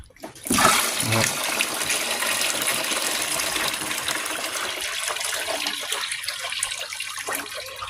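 Thirty litres of prepared water is poured into a betta fish tank holding month-old fry, opening with a sharp splash and settling into a steady, continuous gushing pour close by, no talking.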